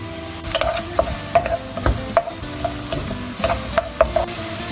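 Onions and dried peppers frying in a pan with salt while a spoon scrapes and stirs, giving steady close sizzling broken by repeated clinks of the utensil against the pan.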